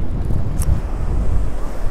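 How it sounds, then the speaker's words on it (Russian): Sea waves hitting the shore of a beach in central Sochi in winter after storms, a continuous broad rushing surge with a brief splash, mixed with strong wind buffeting the microphone. "Волна бьет."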